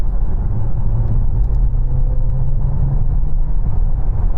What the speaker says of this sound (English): What's the DS9 like at higher speeds though? I'm going to floor it.